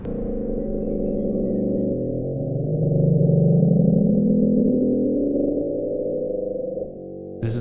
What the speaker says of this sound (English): This is a sound recorded in 1997 from the deep Pacific Ocean.